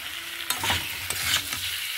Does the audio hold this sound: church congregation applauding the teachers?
no